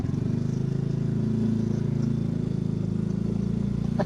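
A borrowed motorbike engine running steadily on a ride in Calatagan, Batangas, a continuous low buzzing drone that stays close and even throughout, with a small clatter near the end.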